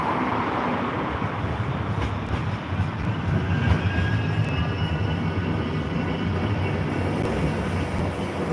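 A Manchester tram pulls away after its doors close, a steady broadband rumble of wheels and motor running continuously at moderate, even loudness with no talk over it.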